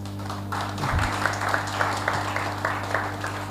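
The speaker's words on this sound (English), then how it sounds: "I want you to clap for yourselves." An audience at a birthday celebration claps in a loose, steady patter of hand claps that builds and then holds, with a low hum running underneath.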